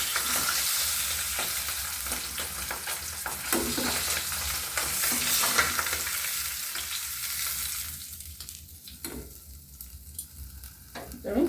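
Pabda fish sizzle loudly as they fry in a pan, a steady broadband crackle with scattered utensil clicks, thinning out near the end into quieter spits and pops.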